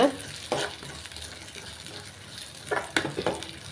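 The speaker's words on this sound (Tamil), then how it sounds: "நல்லா வதக்கிக்கிறலாம் அந்த தேங்காய் சேர்த்துருக்கேன்" Grated coconut being sautéed and stirred in a pan for Kerala-style eriseri kulambu, a soft steady sizzle with a few sharp scraping strokes of the spoon, fairly close and on its own.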